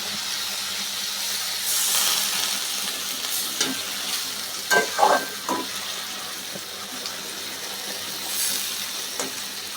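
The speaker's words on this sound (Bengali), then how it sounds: "দেখো, এখন আমি দিয়ে দিচ্ছি পরিমাণ মতো জল।" Water poured onto mixed vegetables cooking in mustard paste sizzles softly in a pan, with a steady hiss and a few brief louder bursts of bubbling and stirring.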